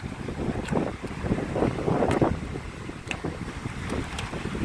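Strong wind buffets the microphone in gusty rushes at Swargadwar beach in Puri, India, at dawn, with a low roar of surf in the background and no voices.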